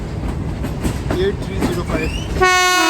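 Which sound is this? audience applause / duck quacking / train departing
train departing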